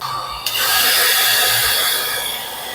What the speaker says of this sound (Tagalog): after ng hangin, hair dryer naman.